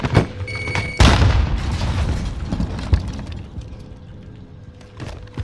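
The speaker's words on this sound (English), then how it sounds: "Enemy precision airstrike." Enemy precision airstrike explosions in Warzone: a heavy boom strikes, then a rumbling wash with further muffled blasts and cracks that fade to a lower roar, with faint game tones in the background.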